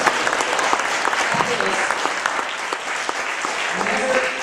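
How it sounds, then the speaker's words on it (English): An audience at a talk opposing Common Core bursts into loud, sustained applause, dense clapping filling the whole stretch with a few voices calling out underneath. "Let's have a big hand to Dr. Pesta."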